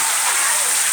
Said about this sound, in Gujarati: કેટલા વીજળીના ચમકારા સાથે વરસાદ પડી રહ્યો છે